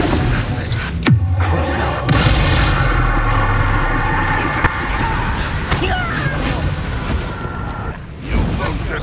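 Confringo explosive spell cast in Hogwarts Legacy, a sharp whip-like crack followed by a booming burst, with other spell impacts and battle noise crowding close and loud around it.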